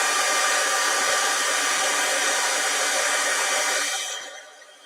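A heat tool blows a loud, steady airstream to melt embossing powder for a vellum craft project, running continuously before tapering off near the end.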